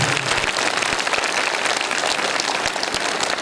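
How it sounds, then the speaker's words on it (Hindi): An audience applauds to welcome a guest at a birthday celebration gathering, dense sustained clapping from many hands close by, steady throughout with no talking. "आप लोग तालियां बजाकर उनका स्वागत करें"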